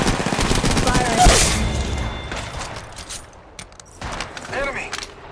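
Gunfire in the video game Apex Legends: loud, close volleys of shots crowd the first seconds, then sparser shots and mechanical clatter follow, with a voice heard along the way.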